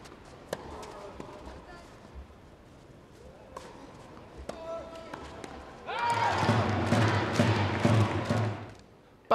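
Tennis fans at a Davis Cup tie between Kazakhstan and Austria burst into loud cheering and applause partway through, following a few sharp thuds and quieter court sounds before it.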